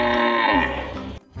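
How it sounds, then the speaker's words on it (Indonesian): A toy animal truck plays a recorded cow moo, one loud sustained lowing call lasting about a second that ends abruptly, heard alone and close. "Wadidaw, ada sapi."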